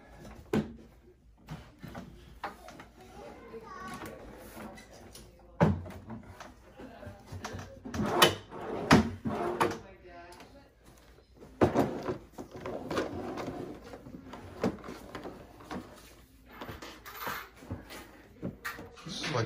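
A desk's keyboard tray, converted into a drawer, slides open and shut with scattered wooden knocks, thuds and scrapes spread over about twenty seconds, while people talk quietly nearby.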